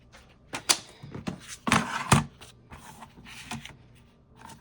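Paper trimmed down to size for a junk journal folio, heard as a series of crisp, close cutting and rustling strokes in irregular bursts, with two louder clusters near the middle.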